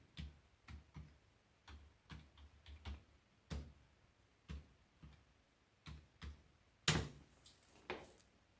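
Sparse, irregular keystrokes on a computer keyboard tap in small clusters with pauses, close and quiet, with one sharper louder clack partway through.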